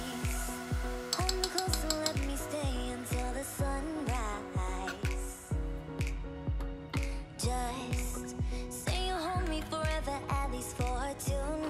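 Pasta aglio e olio with cauliflower purée being plated, with clinks of tongs or cutlery on a dish repeating in a steady rhythm over a quiet bed of background music.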